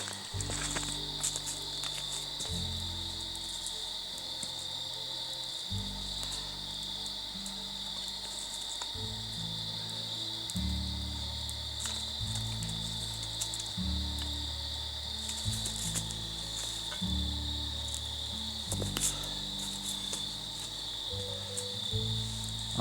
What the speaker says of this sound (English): It was a calm evening, with just the sound of crickets